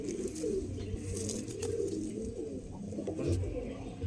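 Male pigeon cooing softly nearby in a loose, continuous murmur throughout, with other pigeons' low coos blending in and faint background noise; no talking is heard.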